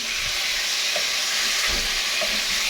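Chicken pieces sauté in a pan with a steady, loud, close sizzle and hiss, with faint stirring knocks underneath, no voices.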